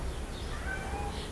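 A cat meows faintly in a cinema auditorium, short thin tonal cries over a steady low rumble of background noise.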